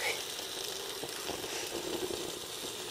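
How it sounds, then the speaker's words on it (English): Water comes to a boil over a soda-can alcohol stove outdoors, a steady, fairly faint hiss and bubbling roar that runs evenly throughout, with no clear speech. "we're starting to get some boil going here"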